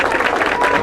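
Brief burst of crowd applause from townspeople as a hearse arrives at a cemetery at a funeral, a steady wash of clapping with no clear talk.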